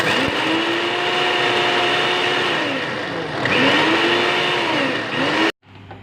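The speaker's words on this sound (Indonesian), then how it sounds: "Kemudian kita blender dulu ya bumbu-bumbunya." Electric blender grinding shallots, candlenut, garlic and chili into a spice paste for snapper soup, a loud continuous whirring roar whose pitch dips and recovers as the load shifts, cutting off abruptly near the end.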